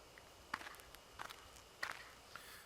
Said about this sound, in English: I hear footsteps again.